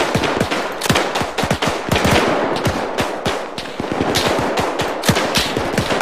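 Sustained rapid machine-gun fire from the player's weapon in the WWII Battle of Berlin campaign of Arma 3, loud and close, with dense overlapping bursts and no talk.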